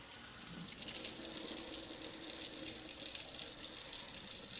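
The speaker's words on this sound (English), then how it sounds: "then I just give them a little rinse." Black oyster mushrooms are rinsed under a running kitchen tap, a steady close stream of water splashing over them in a sink without pause, with no talk.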